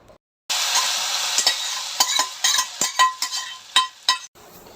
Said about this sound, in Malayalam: തേങ്ങാക്കൊത്ത് മറന്നുപോയി. അപ്പോൾ അതുകൂടി ഇട്ടൊന്ന് വറുത്തെടുക്കട്ടെ